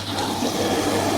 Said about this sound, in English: should open another valve.